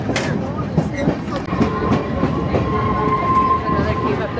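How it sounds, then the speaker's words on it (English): Verde Canyon Railroad scenic train running on its tracks in Arizona's Verde Canyon, with a steady rumble, rhythmic clacking of wheels over rail joints and a faint high squeal, heard from on board with voices in the background. "We're on a train."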